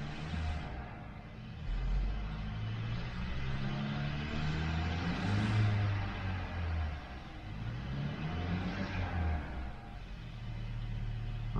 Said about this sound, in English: looks like the engine running well